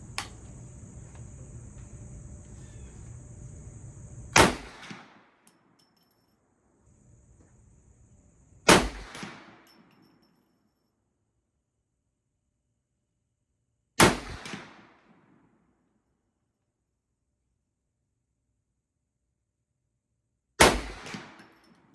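A Ruger M44 Magnum carbine firing Herter's 240 grain 44 Magnum rounds outdoors: four loud, isolated shots several seconds apart, each a sharp crack with a brief echoing tail, separated by near silence and faint handling noise.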